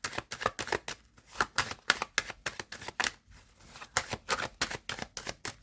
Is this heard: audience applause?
no